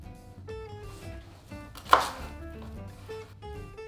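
A knife chops coriander on a board with quick, irregular taps and one louder thud, heard under faint background music.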